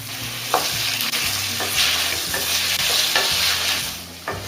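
Onions, tomatoes and cashew nuts fry in oil in a pan with a steady close sizzle, while a spatula scrapes and stirs in repeated strokes across the pan's surface.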